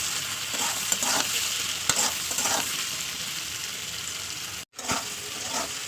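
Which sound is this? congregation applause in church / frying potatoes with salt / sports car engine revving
frying potatoes with salt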